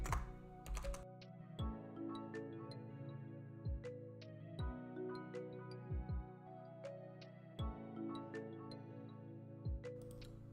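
Typing on a computer keyboard during a live Animal Crossing stream, quick irregular bursts of close, crisp key clicks over a steady low hum, with no talking.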